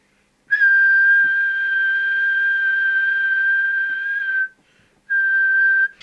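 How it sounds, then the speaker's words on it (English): A person whistles a long, steady, pure tone into a Fidelity CB2000FM UK CB radio during transmitter alignment, holding it for about four seconds, pausing briefly, then starting again, clear and close with no other sound. "we'll just give it the quick whistle test to make sure the sensitivity is how we would expect it to be"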